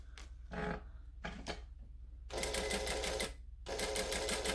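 A home sewing machine stitches fabric for a Butterick B6764 pattern: a few short bursts of running stitches first, then two longer sustained runs with a brief pause between, close and clear with no talking.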